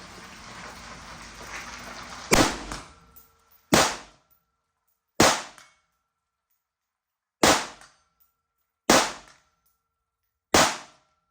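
AR-15 rifle fired at steel targets 100 yards away outdoors, with six sharp, loud single shots spaced a second or two apart. The first is preceded by rustling noise, and each shot ends in a short decaying echo.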